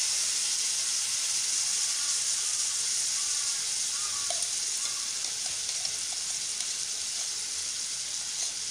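A paste of onion, garlic, ginger, green chili and tomato fries in a pan, giving a steady close hiss and sizzle with faint stirring clicks, no voices.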